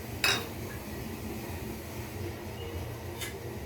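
A utensil stirs fried vermicelli into boiling milk in a pot, giving two sharp metallic clinks, one near the start and one near the end, over a soft, steady kitchen background.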